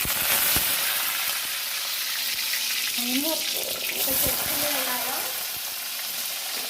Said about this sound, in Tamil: சின்ன வெங்காயம் நல்லா வதக்கி விட்டுருங்க.